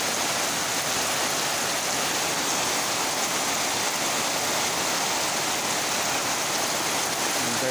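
Heavy rain pours down in Surigao del Sur during flooding, a dense, constant roar of falling water that stays loud and unbroken throughout, with no voices.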